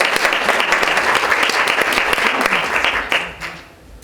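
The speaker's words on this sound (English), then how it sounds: "Let's give her another round of applause." Loud, dense audience applause at a church conference, steady continuous clapping from a large crowd for about three seconds before tapering off at the end.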